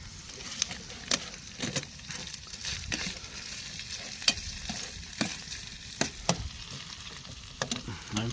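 Bacon fries on a camping stove outdoors, a quiet crackling sizzle broken by repeated sharp scrapes and clicks from stirring the pan, with no speech.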